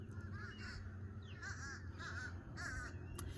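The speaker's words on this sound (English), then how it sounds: "Those are crows." Several harsh crow caws in short bursts, a few calls close together, over a steady low background hum.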